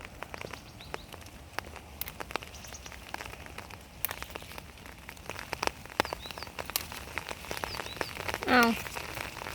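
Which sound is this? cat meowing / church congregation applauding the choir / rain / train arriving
rain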